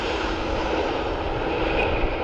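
A Ryanair airliner landing at Dublin Airport gives a steady, broad jet roar, fairly loud and unbroken through the short stretch.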